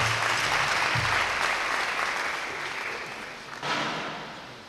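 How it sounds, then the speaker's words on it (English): A crowd at a Ashanti regional community event bursts into sustained applause to welcome a woman guest, a dense, steady wash of clapping that fades slightly and then swells again near the end. "Shall we give a round of applause to her as she comes?"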